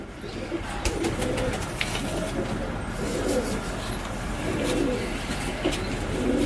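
Pigeons kept by a fancier coo in low, rolling repeated phrases over a steady hiss of background noise, moderately close, with no talking.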